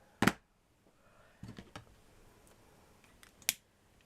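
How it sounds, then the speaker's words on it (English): Quiet scissor snips cutting thread on a large handmade flower patch, a few sharp isolated clicks spaced across a few seconds with near silence between them. "So I'm just going to cut it"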